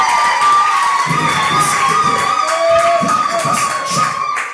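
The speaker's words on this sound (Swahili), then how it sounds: "Mpigie Yesu makofi na vigelegele sana" A church congregation claps and ululates loudly for Jesus, with high trilling cries over rhythmic clapping and crowd shouts, dense and close.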